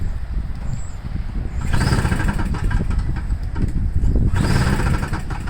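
A small engine, primed and choked, cranks and briefly catches twice, with rough bursts of running separated by quieter gaps, recorded close.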